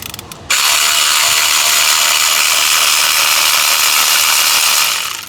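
A ratchet wrench clicks rapidly and loudly up close while spark plugs are torqued on a 2007 Toyota Corolla, a dense, even ratcheting run that lasts several seconds after a brief quieter start.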